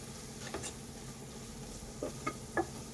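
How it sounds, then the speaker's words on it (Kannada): Turmeric and chili powder frying in a pan for egg masala, a low steady sizzle with a few soft stirring scrapes and taps near the middle and end. "ಇದು ಸ್ವಲ್ಪ ಹಸಿ ವಾಸನೆ ಹೋಗೋವರೆಗೂ ಫ್ರೈ ಮಾಡ್ಕೊಳ್ಳೋಣ."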